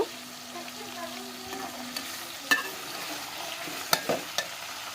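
Meat frying in a pan and browning while being stirred, a soft steady sizzle broken by several sharp scraping clicks of the utensil, close by with no talk.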